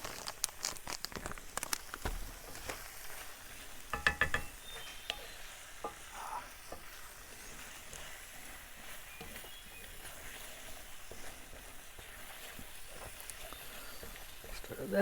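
Cheese being stirred into a camp dinner in a pan at a Green Mountains campground, with soft scraping and faint sizzle running steadily throughout under outdoor background noise.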